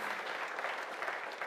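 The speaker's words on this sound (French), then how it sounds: "on peut les applaudir parce qu'ils ont été patients" A church congregation applauds the speaker's parents with dense, sustained clapping at moderate distance. The applause holds an even level throughout and no one speaks over it.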